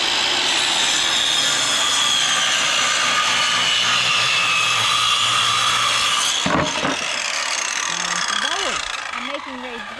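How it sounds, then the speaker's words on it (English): Wood is cut by hand with a saw for raised garden beds, a loud, steady rasping of back-and-forth strokes that stops partway through, after which a voice talks nearby. "Hey, what are we sawing?"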